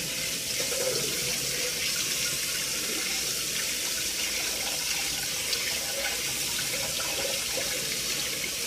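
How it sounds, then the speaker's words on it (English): Cold tap water runs steadily into a sink while drained eggs are rinsed, a continuous, fairly loud splashing rush with no speech over it. "And under cold running water."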